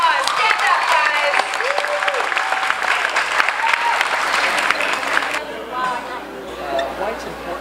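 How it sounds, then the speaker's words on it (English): Audience applause and cheering for a New York college baseball team at a Citi Field kids' event, a dense, loud wash of clapping with crowd chatter that thins and softens toward the end. "Give them a round of applause"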